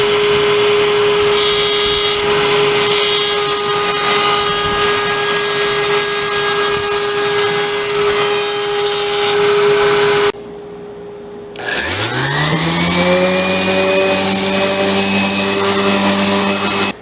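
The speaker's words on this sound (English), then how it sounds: "I'm going to try to round the edges over just a little bit on the router" A router rounds over the edges of wooden panels for decorative stackable shelves, a loud steady whine running about ten seconds, dropping away briefly, then spinning back up with a rising pitch and continuing.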